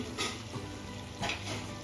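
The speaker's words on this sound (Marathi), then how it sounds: "आता आपण ऑइल सेपरेट होईपर्यंत मसाला परतून घेणार आहोत" Masala sautéing in oil in a pan until the oil separates, a steady close sizzle with two soft stirring scrapes, for a brinjal and potato curry.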